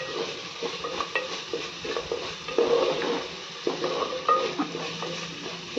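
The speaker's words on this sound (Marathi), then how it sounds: "तेही छान तेलामध्ये परतून घेऊया" Ground coconut and coriander masala fries in hot oil for misal, a steady sizzle with spoon scraping and stirring against the pan throughout, close and fairly loud.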